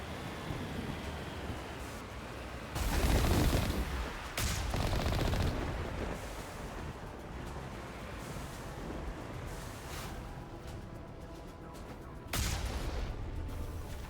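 Mass Effect battlefield din of continuous rumbling gunfire and explosions, with heavy artillery blasts swelling louder around the third second and again near the end over a constant roar.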